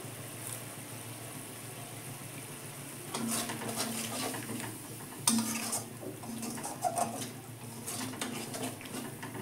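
Spice paste of mustard and poppy seed, with onion and tomato, being fried and stirred in a pan for a spicy catfish and tengra fish curry: a spoon scrapes and clinks against the metal under a steady low cooking hiss, with no talk.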